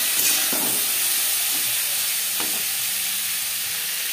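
Vegetables frying in a pan with turmeric powder and salt, a steady close sizzle and hiss with a few soft stirring scrapes, no voices.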